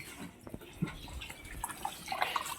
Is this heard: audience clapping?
no